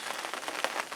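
Rain patters on a fishing bivvy at a lakeside carp session, a dense, steady drumming of drops on the fabric heard from inside the shelter, with a few louder taps.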